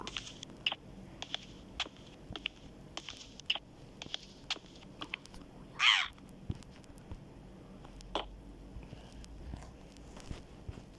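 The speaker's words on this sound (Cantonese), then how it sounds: "有隻烏鴉㗎" A crow caws in a series of short, sharp calls near an Airport Express railway station, mostly moderate and fairly close, with one louder call standing out against a quiet background of faint ambient noise and footsteps.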